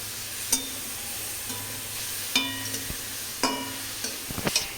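Curry catching and burning in a pan on a home stove, a steady close sizzle broken by a few sharp scraping stirs of a utensil against the pan.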